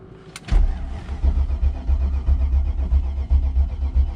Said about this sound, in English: She's got the crank and no start.